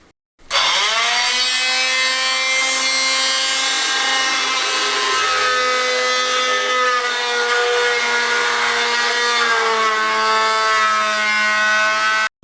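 A saw cuts a socket hole into a wall of an old Spanish finca under restoration, a loud, continuous harmonic rasp that holds steady for about twelve seconds with no talking.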